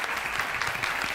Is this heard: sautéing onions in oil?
no